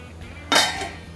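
A metal stand is set down inside a heavy-bottomed pan lined with salt, giving a single sharp metallic clink with a brief ringing tail, close and alone in a quiet room.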